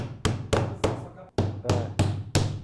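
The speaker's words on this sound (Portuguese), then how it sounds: "é bom ter algo para bater nessa cavilha, de preferência um martelo" Hammer blows tapping a wooden dowel into an MDF cabinet panel during furniture assembly, seven sharp, evenly spaced knocks close by with a brief pause midway.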